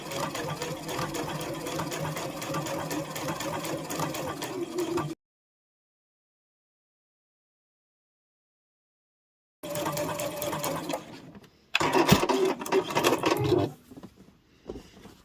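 Sewing machine running a bold top stitch line on a fabric book sleeve, a steady mechanical whir in two bursts separated by a silent gap, with a louder final stretch before it stops.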